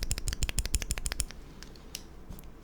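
The caps lock key on a Neo65 hot-swap keyboard with a regular, non-stepped keycap is tapped quickly about a dozen times, each press a sharp, close clack, before the clacking thins into a few faint ticks with no talk.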